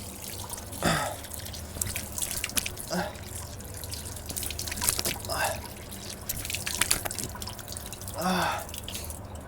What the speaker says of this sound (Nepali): मुखसुख धुयो